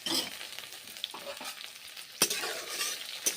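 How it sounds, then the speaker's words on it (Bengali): Pointed gourd pieces fry in hot mustard oil in a wok, with sizzling and stirring. Bursts of crackle and scraping come and go, and a few sharp spatters stand out, with no talk. "এখন পটলগুলো ভেজে নিচ্ছি"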